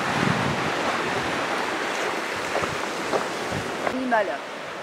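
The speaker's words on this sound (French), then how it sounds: "Voilà la mer." Surf washing onto a deserted Corfu shore, a steady broadband wash of waves with wind noise against the microphone, a voice briefly audible near the end.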